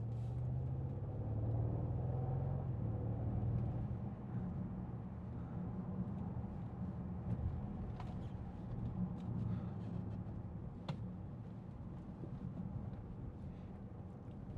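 A 2014 Bentley Continental GT V8 S with a 4.0-litre V8 burbles in a steady, deep, low rumble, fairly loud and continuous, with a little wind buffeting.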